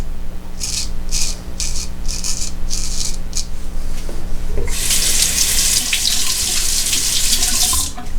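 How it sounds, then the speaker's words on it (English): Running tap water pours into a sink for rinsing after a straight razor shave, a loud close rush arriving after several short bursts of rubbing or splashing. "Now I'll rinse off."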